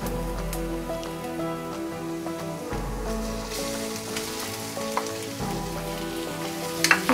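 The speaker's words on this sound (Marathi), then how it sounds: "आता ह्याच्यात आपण मॅरिनेट केलेली कोळंबी घालून घेऊया." Marinated prawns sizzling and frying in a pan with softened sautéed onions, a steady crackling hiss with occasional clinks of a utensil against the pan, moderately loud and close, no talking.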